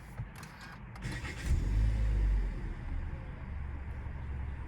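A 2021 Toyota C-HR starting with push-button ignition: a few faint clicks, then a brief low engine catch and rise into a quiet, steady idle heard from inside the car.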